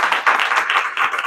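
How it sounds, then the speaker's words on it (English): Brief audience applause at a small business roundtable, a short burst of many hands clapping together, fairly close and even. "Why don't we give these ladies a round of applause?"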